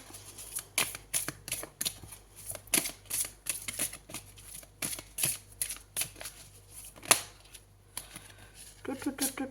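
Tarot cards being shuffled and drawn, giving a run of quick crisp riffling flicks and snaps with short pauses between bursts, fairly close; a voice speaks briefly near the end.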